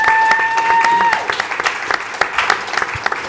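An audience bursts into applause, a thick wash of many hands clapping that grows looser and more scattered, with individual claps popping out as it fades.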